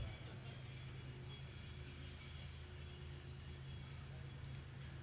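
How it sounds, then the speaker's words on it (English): A steady low rumble of a passing train, moderately distant, holding a constant drone with faint squeals and no voices, during an outdoor evening candlelight vigil. "I'll let the train go by."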